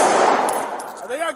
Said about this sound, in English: Gunfire's exchanged.